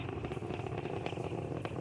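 The Merlin engines of a SpaceX Falcon 9 first stage roar during ascent, heard as a dense, steady, crackling rumble with no pauses, faint in level.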